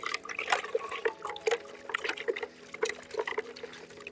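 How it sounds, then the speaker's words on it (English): Water runs from a tap as someone washes their hands, a light trickling and splashing that rises and falls over several seconds, with a steady low hum behind it. "I'm gonna wash my hands"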